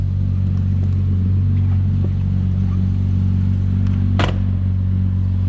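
A 2007 Porsche Cayman S engine idles with a loud, steady low rumble, close by, with a brief clatter near the end.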